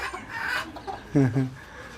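A calm pet rooster clucks while being stroked, a short low double cluck near the end following softer murmurs, with people talking quietly nearby.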